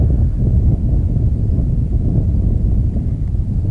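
Steady low rumbling buffet of wind hitting an outdoor microphone, loud and continuous throughout with no voices, while a drone is flown near a Yamaha FZ-07 motorcycle.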